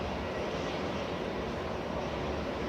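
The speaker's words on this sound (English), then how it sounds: "This was the Easy that landed." An easyJet airliner landing at Manchester Airport, a continuous broad jet roar heard at a distance, steady and unbroken with no voices.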